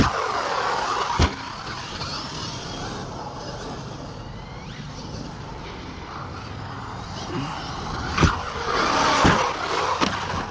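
A car travels along the road at a moderate pace on original wheels, steady engine and road noise filling the background with a few sharp thumps, while people talk over it.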